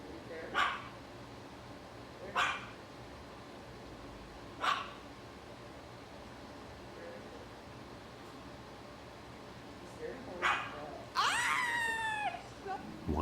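A dog barks in a few sharp, spaced single barks in a replayed clip, slightly distant, followed by a rising whining yelp near the end over a faint background murmur.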